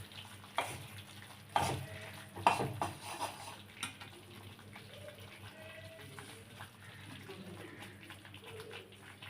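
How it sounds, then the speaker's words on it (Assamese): Maida flour roasting and being stirred in a pan for halwa over medium heat, giving a soft frying sizzle with scraping knocks of the spoon, a few sharper clatters early on, and quieter stirring toward the end. "অলপ চিম কৰি পেলাই ভাজি আছোঁ।"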